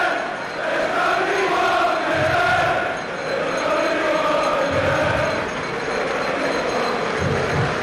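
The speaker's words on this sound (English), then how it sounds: "Applause for the Portsmouth chairman as he acknowledges the cries of his supporters" Football crowd applauding and cheering the Portsmouth chairman, a dense continuous roar of clapping and shouts that holds steady throughout, loud and wide, with no talk on top.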